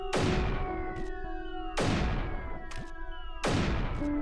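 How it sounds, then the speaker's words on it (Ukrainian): Cannons fire in the strategy video game Creeper World 3, three sharp booming blasts evenly spaced about every second and a half, each decaying into a ringing tonal tail, with no talk over them. "Все, вони тут стріляють."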